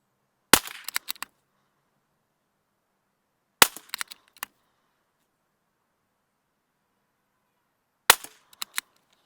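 Three sharp rifle shots are fired while testing a PARD FT thermal clip-on scope, spaced a few seconds apart, each a loud crack followed by a brief rattling echo and then silence.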